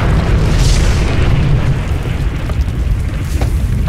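Firecrackers set off at night near a border area: dense, continuous booming blasts with sharp pops, loud and close, filling the whole stretch without pause.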